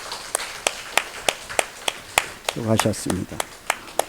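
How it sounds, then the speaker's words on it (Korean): Church congregation members clap in a slow, sparse, rhythmic beat of distinct single claps at a Sunday morning service, while a voice speaks briefly over them. "보아스 목장 우리 한번 축복하며 박수하겠습니다"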